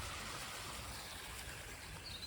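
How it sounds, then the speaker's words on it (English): A small waterfall among moss-covered rocks on a ride-out, a faint continuous rush of falling water with steady broadband hiss and no other sounds. "And there's the little waterfall."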